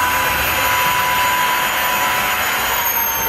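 A Dreame H11 Max wet-dry cordless vacuum cleaner runs steadily at home, a loud, even whir with a high motor whine that holds unchanged throughout, close up with no talk.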